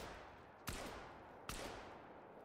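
Two sharp blasts from a 10 gauge shotgun in a Call of the Wild hunting video game set in Africa, spaced under a second apart over a steady ambient background, fairly faint with no talking.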